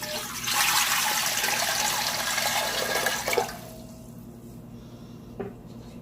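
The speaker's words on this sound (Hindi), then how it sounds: "देचके में सबसे पहले 1 लीटर पानी डालेंगे।" Water poured into a cooking pot, one litre going in as a steady broadband rush for a few seconds, then tapering off, with a small splash near the end.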